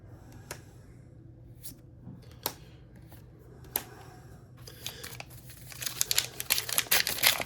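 Star Wars Unlimited trading card packs from an Ashes of the Empire carbonite box are ripped open. Scattered faint crinkles and ticks lead into a louder, dense burst of foil tearing and crumpling near the end.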